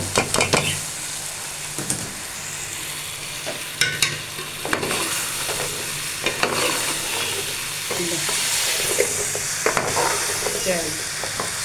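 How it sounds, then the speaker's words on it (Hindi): Ridge gourd frying in a pan with steady sizzling throughout, broken by repeated sharp scrapes and clinks of a spoon stirring against the metal. "ये हमारी फ्राई हो गई थोड़ी देर तक हम इसको फ्राई करेंगे"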